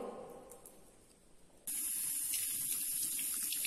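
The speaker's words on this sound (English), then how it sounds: "we will thoroughly wash the meat pieces so there is no dust and dirt left behind" A faucet turns on abruptly and gushes into a sink while raw meat pieces are rinsed clean, a loud steady rush of water with faint handling clatter and no talking.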